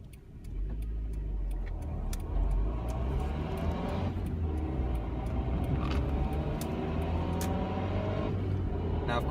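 A 1996 Honda Civic LX engine drones in a low, steady rumble from inside the moving car, with regular faint ticking clicks on top.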